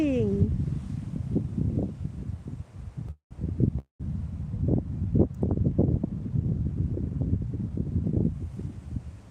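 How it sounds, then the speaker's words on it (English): Gusty outdoor wind buffeting the microphone, a constant low rumble with louder bursts, under close muffled talk and rustling, with a couple of brief dropouts. "I'm sorry about the wind."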